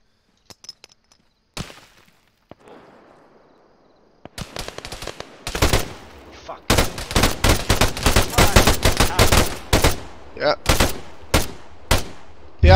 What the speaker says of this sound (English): Okay, artillery's going to strike in a second in the town